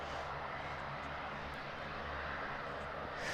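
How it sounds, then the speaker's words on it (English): A V-22 Osprey tiltrotor comes in on final approach at RAF Mildenhall, a steady, distant rotor-and-engine roar rumbling continuously at moderate level throughout. "the Osprey is coming back into finals"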